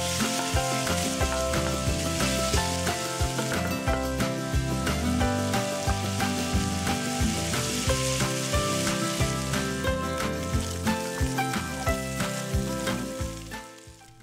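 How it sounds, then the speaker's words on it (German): Gyros meat sizzles and fries steadily in a hot pan, a dense crackling hiss with occasional stirring, fading slightly at the end. "Da können wir noch ein bisschen rühren und braten und brutzeln"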